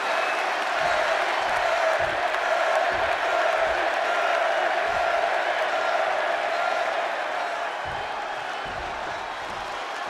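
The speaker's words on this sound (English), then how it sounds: "And just listen to this crowd here in Chicago." A home crowd in a Chicago arena roars steadily in the WWE 2K26 wrestling game during a CM Punk vs Eddie Guerrero match. The dense cheering wash stays loud for the whole stretch, with faint low thumps underneath.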